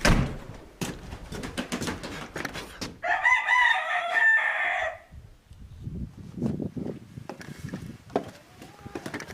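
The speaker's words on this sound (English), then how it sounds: "We are old-fashioned. We have chickens." Old backyard chickens cluck in short, scattered bursts, and partway through a rooster lets out one loud, drawn-out crow. The sound is fairly close.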